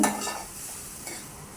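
Onions go into hot oil for an Andhra-style chicken curry and crackle with a close, busy sizzle, starting with a brief louder burst and then settling into a steady fry.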